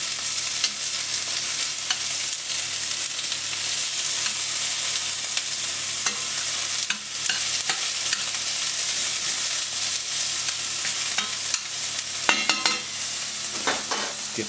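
Steady, close sizzling of oyster mushrooms frying in a pan, with occasional scrapes and stirring clatters near the end.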